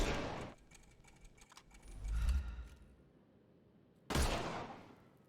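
Gunfire in the Sherlock Holmes: Chapter One game as shots knock armour off enemies: two sharp, loud bursts at the start and near the end, separated by a low rumbling lull.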